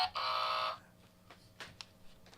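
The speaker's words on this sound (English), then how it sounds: "Get ready with the buzzer." A game show buzzer blares once, loud and flat, for about half a second, followed by faint scattered clicks and room noise.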